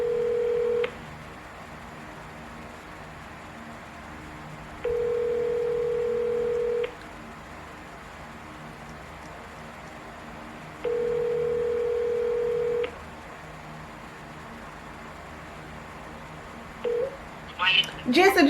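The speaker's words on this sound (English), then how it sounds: "Alright, so me go call Odin" A phone beeps through a dialing sequence with steady ringback tones repeating about every four seconds, quiet and clear, with faint background noise and a brief rustle near the end.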